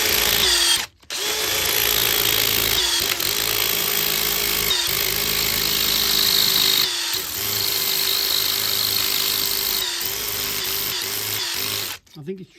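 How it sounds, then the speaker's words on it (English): A power drill bores into a big gate for a new lock, its motor whining steadily and loudly near at hand, with short pauses where it stops and restarts a few times. "I just haven't got a grip on the drill"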